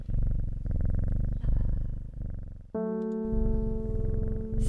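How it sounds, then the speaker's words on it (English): A cat purrs steadily as it is petted in the video game Strange Horticulture, a low continuous rumble that carries through the clip, with a sustained chime-like tone joining partway through. "Pet the kitty a couple more times."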